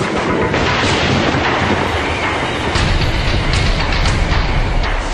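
A violent thunderstorm roars loud and close in a steady, dense rumble of wind and rain, with crackling bursts scattered through, no voices present.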